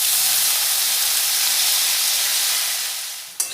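Pumpkin, eggplant, potato and Malabar spinach stalks hit hot oil for a hilsa fish-head pumpkin dish, giving a loud, steady broadband sizzle that fades slightly toward the end before a brief knock.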